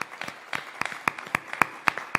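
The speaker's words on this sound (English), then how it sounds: "So let's give them a big round of applause." A small audience at a fish fry claps for the helpers: distinct, fairly sparse hand claps in a loose, quick rhythm that stand out sharply over a quiet background.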